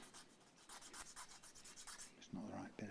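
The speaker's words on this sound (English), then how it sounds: "if I do a little bit of sanding" Steady rhythmic rasping of hand sanding on a Strat-style guitar, repeated back-and-forth strokes at close range, ending with a couple of louder scrapes.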